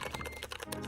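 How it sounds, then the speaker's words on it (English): Rapid, satisfying clicks of a pretty computer keyboard being typed on, close and crisp in a short quick burst. "this is my regular keyboard. It's beautiful, it's pretty, and it sounds satisfying, right?"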